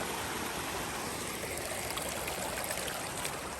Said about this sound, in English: This is my first creek crossing, one of many, and this isn't quite as treacherous of one.